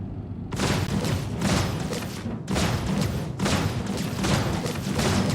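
Spaceship weapons in Star Citizen pound against shields in a steady series of loud, dense blasts, each burst separated by brief gaps, rumbling and close.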